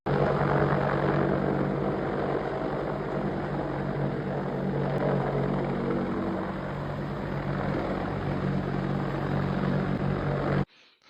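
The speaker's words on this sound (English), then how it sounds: "Kid Rock in his apartment with a US Army Black Hawk helicopter hovering outside his apartment" A US Army Black Hawk helicopter hovers close by outside an apartment, its rotor throbbing and engine whine forming a loud, steady roar that fills the whole stretch before cutting off abruptly at the end.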